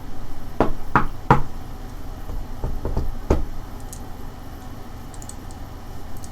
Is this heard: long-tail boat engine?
no